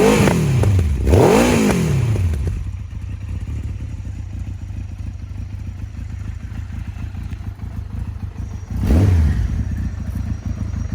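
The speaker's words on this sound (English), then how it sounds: "I'll rev it so you can listen to the beautiful exhaust." Yamaha XJR1300 motorcycle revved hard through its exhaust with two sharp rising-and-falling blips at the start, then a steady rumbling idle before a third quick rev near the end, loud and close with no talking.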